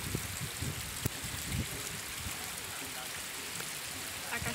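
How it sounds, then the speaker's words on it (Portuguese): Small waterfall flowing after rain in the Brazilian Northeast, a steady broadband rush of water throughout with faint scattered knocks and soft background voices. "É uma cachoeira"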